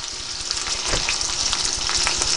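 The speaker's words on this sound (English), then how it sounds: "Because it's sort of sauteed, fried." Salmon sautéing in oil in a pot with peppers, onions and garlic, a dense, continuous close sizzle with small popping crackles and no voices.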